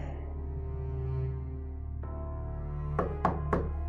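Three sharp knocks on a door, spaced about a quarter second apart, sound near and fairly loud over a steady low hum in an indoor drama scene.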